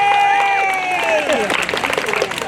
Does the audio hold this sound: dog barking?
no